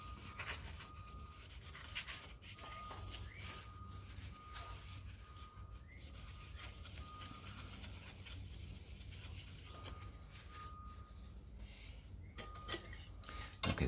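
Old CPU cooler rubbed clean by hand, faint scratchy scrubbing strokes with occasional light metallic clinks, quiet and close with no talking.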